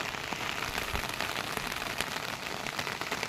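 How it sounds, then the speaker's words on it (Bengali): Steady rain patters on a hard surface, a dense, even hiss of drops with occasional louder splashes, no voices. "দেখো বন্ধুরা কি সুন্দর বৃষ্টি পড়ছে।"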